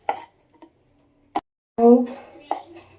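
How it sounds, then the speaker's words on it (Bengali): A knife cutting a tomato into pieces on a board: a few sharp, isolated knocks spaced apart in a quiet kitchen, with a woman's short spoken phrase between them. "টমেটো এরকম ভাবে কেটে নেব"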